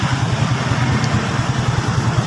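Honda Raider J 115 motorcycle engine idling up close with a steady low throbbing putter; the ignition coil is reported burnt out.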